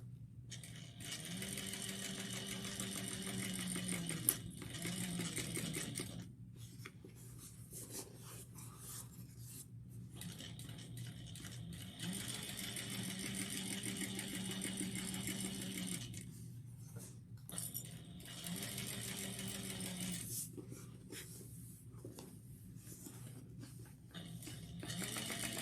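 A sewing machine stitching fabric in long runs with short pauses between them, a steady close mechanical hum and patter with no talking.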